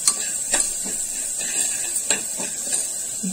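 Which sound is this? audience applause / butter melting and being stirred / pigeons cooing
butter melting and being stirred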